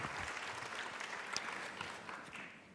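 Audience applause at a formal French morning ceremony, steady even clapping filling the whole moment at moderate volume with no voices over it.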